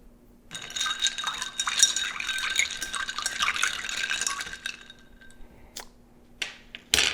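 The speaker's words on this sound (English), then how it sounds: "Lastly, we're going to give it a quick stir." Ice and liquid stirred in a mixing glass for an El Jimador tequila Old Fashioned with Angostura bitters, a steady clinking, swirling rattle for several seconds, then a few separate clinks near the end.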